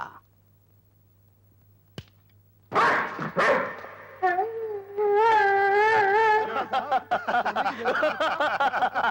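A dog barks and yips in a Hindi action film scene, several bursts close and loud after a brief quiet start and a single sharp click, continuing in an uneven rhythm.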